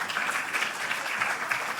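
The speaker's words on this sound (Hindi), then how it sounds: "तालियां तालियां तालियां" Steady applause from an audience at a poetry recital at a college kavi sammelan, dense clapping sustained evenly for the whole stretch without pauses.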